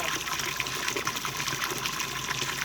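Running water flows and gushes steadily in a continuous, fairly quiet wash with no let-up.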